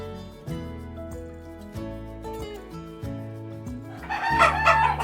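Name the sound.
naked neck chickens crowing and clucking on a poultry farm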